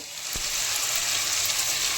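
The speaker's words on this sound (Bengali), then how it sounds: "কালো জিরে ফোড়ন দিয়ে আলু একটু ভেজে নিয়ে" Potatoes fry in hot oil tempered with black cumin, giving a steady, close sizzle with a brief stir near the start and no talk.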